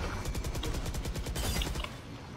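Rapid automatic gunfire from the tactical shooter Valorant on the Lotus map, a loud, steady burst of closely spaced shots lasting about two seconds before cutting off abruptly.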